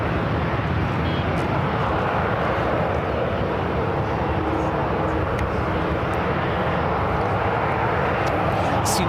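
A United Boeing 777 heavy arrives from London Heathrow onto runway 28 right at SFO, a loud sustained engine roar filling every moment, dense and unbroken, with brief clicks scattered on top.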